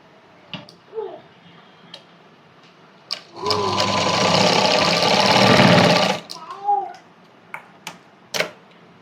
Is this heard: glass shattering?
no